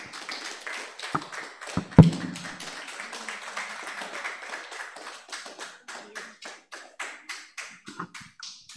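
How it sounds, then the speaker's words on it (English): Audience at an evening Christian school event clapping for the school's CEO, with scattered claps that settle into a light, fairly even round of applause, plus a loud knock early on. "Let's give her a hand of applause."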